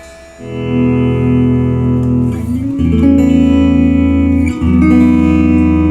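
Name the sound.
electric guitar through tweed clean amp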